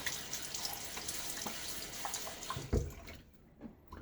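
Tap water runs and splashes into a sink while a face is wetted before a shave, a steady close gush with uneven splashes, easing off toward the end.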